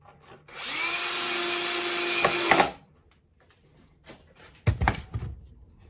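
A power drill drives screws into a wooden guitar mould, one close, loud, whirring run of about two seconds that rises then holds steady, followed by quiet clicks and knocks of handling.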